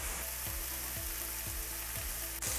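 Chopped vegetables for steak quesadillas sizzle steadily in a hot pan, a continuous close frying hiss with faint rhythmic stirring scrapes and no voices.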